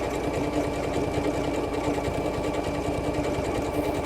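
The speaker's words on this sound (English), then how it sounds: "it's sewing that decorative stitch in a perfect circle" A sewing machine works a decorative stitch while rotating around a pivot pen to form a circle, its rapid, even needle chatter running continuously and close up without any pause.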